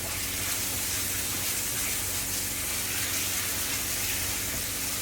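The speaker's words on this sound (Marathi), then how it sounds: "तेल गरम झालं की ह्याच्यात टाकूया आपण आलं लसणाची पेस्ट" Ginger garlic paste sizzling in hot oil for a Burmese chicken khow suey, a steady close hiss and crackle of frying that fills the whole stretch without pause.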